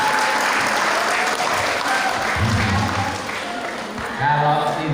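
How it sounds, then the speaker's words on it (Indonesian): Sustained applause from an audience at a tuberculosis and asthma prevention outreach session at a hospital, steady clapping throughout with a slight dip near the end, then swelling again. "tepuk tangan untuk Ibu Fadilah"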